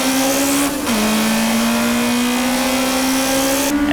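Race cars roar together at a Japanese JDM race restart, one dominant engine note droning loudly and steadily, dipping briefly on a gear change before climbing again and then shifting once more near the end.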